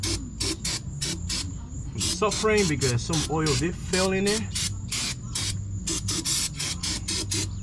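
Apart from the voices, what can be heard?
aerosol cleaner spraying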